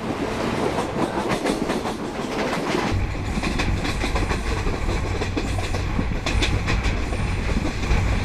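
Konkan Railway train riding the tracks, a steady loud rumble of wheels and carriage noise that grows denser partway through, with rhythmic clatter throughout and no talking.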